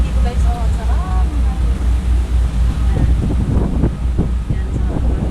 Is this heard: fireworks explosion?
no